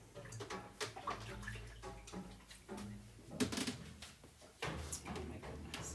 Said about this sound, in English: I'm gonna go ahead and wash this transfer real quickly